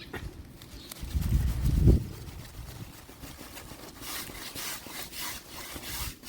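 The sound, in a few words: cutting a hibiscus plant stem for grafting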